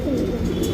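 A male Surmai pigeon coos close by in a short, low, throaty burst.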